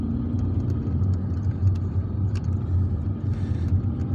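A car drives through the central streets of Dely Ibrahim in Algiers, its steady mid-range engine hum and road rumble running continuously from inside the cabin, with faint brief clicks and no talk.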